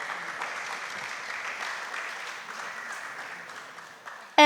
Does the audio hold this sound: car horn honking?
no